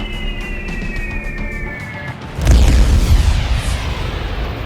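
A bomb explodes in a motocross-style motorcycle video game: engine whine fades, then a sudden loud, low boom hits and rumbles on for a couple of seconds.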